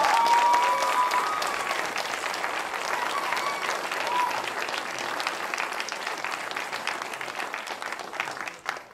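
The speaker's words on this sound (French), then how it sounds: "Donc je vais vous demander une salve d'applaudissements à l'avance." Sustained applause from an audience at a Quebec college student performance contest final, steady and fairly loud throughout, with scattered cheers or voices mixed in before it tapers slightly at the end.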